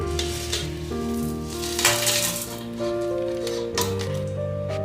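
Whole spices, coriander seed and sliced onion sizzle and fry steadily in a hot pan for chicken maqluba, with continuous crackling and occasional clinks of a utensil against the pan.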